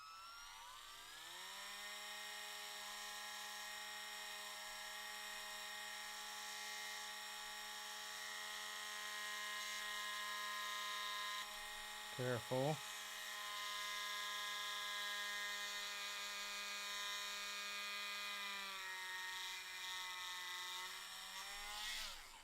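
Cordless power drill whining steadily as it bores through a plastic dinosaur warrior action-figure ankle, a sustained motor tone with a brief stutter midway where the bit catches, then spinning on before winding down. A short spoken word cuts in.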